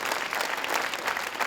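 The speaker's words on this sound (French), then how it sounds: "Donc, on peut déjà tous les applaudir." Steady applause from a crowd at the Salon du Chocolat in Paris, during a pastry competition, many hands clapping together in a dense, even wash of sound.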